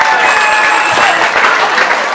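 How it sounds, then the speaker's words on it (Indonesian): Loud, dense clapping from an audience at a school Maulid Nabi celebration, following a hadroh group's performance, steady and close with some crowd murmur beneath. "Wah, tepuk tangan lagi."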